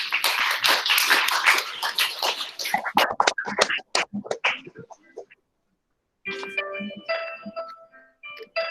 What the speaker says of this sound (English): let's give a round of applause for our principal, Mr. Xu